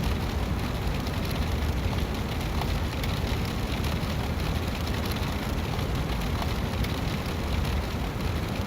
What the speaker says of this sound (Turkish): Yağmurun sesi geliyor mu dostlar pencereye çarpan?